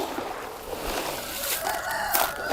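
Chickens cluck steadily while a rooster crows partway through, all fairly close and continuous.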